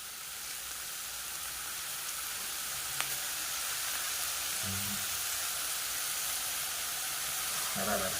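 Dried fish sizzles steadily in hot oil with curry leaves, a soft, even crackle and hiss that carries through the whole stretch without a break, with a few faint clinks of utensils and no talking.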